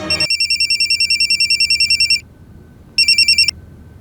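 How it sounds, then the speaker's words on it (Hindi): Telephone ringing inside a closed office, a steady run of rapid electronic trill bursts for about two seconds, a pause with faint room noise, then a shorter burst before it cuts off. "सर रिंग जा रहे हैं अंदर।"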